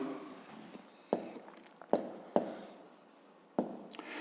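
Pen strokes on paper in a school maths exercise book come as several quiet, sharp scratches and taps at irregular intervals, close up, with no talk.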